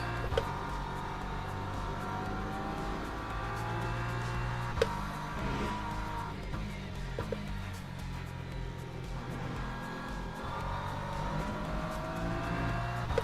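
Ferrari race car engine in the Le Mans Ultimate racing game drones steadily and loudly throughout, a sustained mechanical tone with small shifts in pitch and no talk over it.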